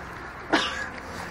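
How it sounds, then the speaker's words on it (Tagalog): A person gives a single short cough at a birthday gathering in a Manila restaurant, a sharp burst over low background room noise. "Umubo, umubo!"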